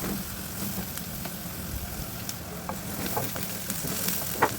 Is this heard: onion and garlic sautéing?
yes